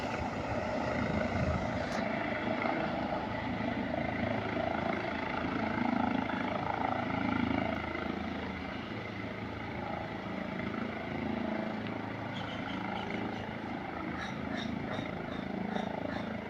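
Helicopter landing beside Ashtamudi lake: a steady, loud broadband rotor and engine roar that holds throughout, with faint voices talking in the background.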